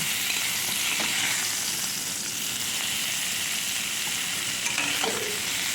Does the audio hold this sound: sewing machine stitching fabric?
no